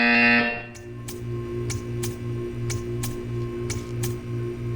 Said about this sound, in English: You will hear a buzzer. When you hear the buzzer, stare at the art.